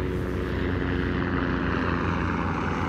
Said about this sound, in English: Bloody great helicopter.